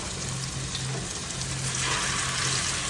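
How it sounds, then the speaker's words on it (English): Beef frying in a skillet on the stove, a loud, steady, dense sizzle of hot fat crackling continuously with no talk over it. "You hear that sizzle?"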